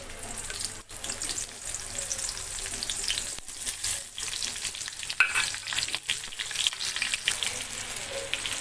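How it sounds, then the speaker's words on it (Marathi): Stuffed brinjals fry in hot oil for a Vidarbha-style bharli vangi, with a loud, continuous, crackling sizzle and a few brief clatters. No one speaks. "पाच मिनिटं आपण तेलामध्ये असं फ्राय करून घ्यायचं आहे वांग्याला"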